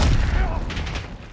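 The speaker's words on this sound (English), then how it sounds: "Frag going out." A frag grenade goes off in the Call of Duty Black Ops 6 video game, a loud, close, rumbling boom with dense crackling that fills the short moment and then fades slightly.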